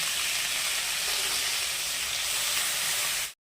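Fenugreek leaves sizzling in a little oil in a wok, a steady bright hiss of frying that runs evenly and close before cutting off abruptly near the end.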